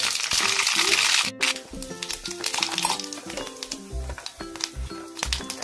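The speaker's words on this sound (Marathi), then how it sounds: "लसूण टाकून घेऊया, जिरं टाकूया, ते टाकून घेऊया आपण। याच्यामध्ये मोहरी टाकूया आपण थोडीशी" Mustard seeds, garlic and cumin crackle and sizzle in hot oil in a pan for a dal and bitter gourd dish, a steady hiss with scattered pops and clinks of utensils, under background music.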